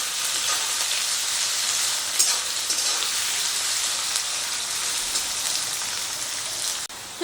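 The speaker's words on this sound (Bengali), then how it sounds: "এগুলোকে হালকা করে ভেজে নেব।" Vegetables and green peas lightly frying in a pan give a steady, even sizzling hiss that holds throughout with no talking.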